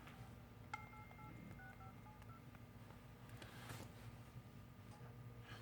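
Phone dialing tones sound while calling an iPhone 6s: a string of short, evenly paced electronic beeps, faint and close over a low steady background hum, with no talking.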